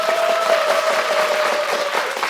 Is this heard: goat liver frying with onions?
no